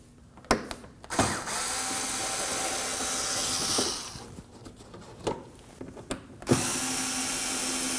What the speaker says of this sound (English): we're going to be on the inner fender well, removing these 3 Phillips head screws.